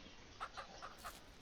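Hens in the Ranch Simulator video game give soft, repeated clucks, about four short calls in a steady rhythm over a faint background hum.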